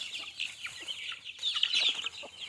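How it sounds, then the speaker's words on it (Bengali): Tamil Nadu desi chickens cluck on a small farm with a run of short, repeated nearby clucks and murmurs. A brighter burst of calls comes midway. "ওই মুরগিটা তামিলনাড়ুর দেশি মুরগিটা, তামিলনাড়ুর দেশি মুরগি।"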